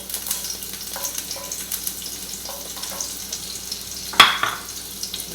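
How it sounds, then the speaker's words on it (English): Onion cooking in a pan for an omelette, giving a soft, steady frying crackle with light stirring taps and one sharper clatter near the end. "we're going to add some of the onion because we want to cook that up a little bit."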